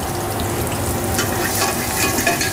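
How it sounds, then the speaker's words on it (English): Minced garlic frying in olive oil in a pan, a steady close sizzle and crackle lasting throughout with no voices. "We're gonna get a really nice good toast on this garlic, just till it starts to brown a little bit."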